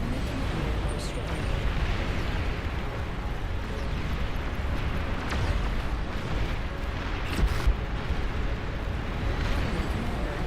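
Explosion as an enemy commander is destroyed in the real-time strategy game Beyond All Reason, a dense rumbling roar with scattered bursts amid continuous battle noise, loud and sustained.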